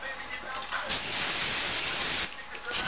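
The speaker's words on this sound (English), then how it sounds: "Spray it." A steady hissing hairspray aerosol runs for over a second, fairly close, with quieter rustling before and after.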